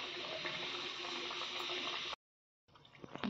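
Nimki pastry frying in oil over a low flame gives a steady, dense sizzle that cuts out abruptly partway, then returns softer with a few sharper crackles.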